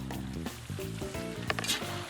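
Lamb and carrots frying in a pot for plov with lamb, a steady loud sizzle with clattering stirring and scraping over it.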